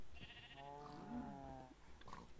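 A sheep bleats once in the Minecraft video game, a single wavering, nasal baa lasting about a second and a half, faint and alone against quiet background noise.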